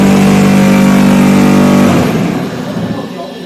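Motor-driven construction machine running at a building-materials site, a steady loud engine drone with strong low hum that cuts off and fades out partway through, followed by quieter rumble.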